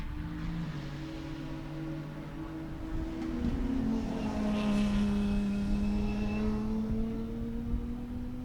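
Race cars lapping at Sebring: a buzzing, high-revving engine drone with rising and falling pitch as cars pass, swelling louder through the middle, heard from trackside with no talk.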